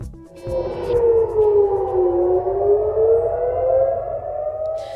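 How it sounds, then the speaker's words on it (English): Civil defense air raid sirens wail over Tel Aviv, a loud continuous rising and falling tone that sweeps slowly and fills the whole stretch without pause. "This morning, sirens rang out over Tel Aviv."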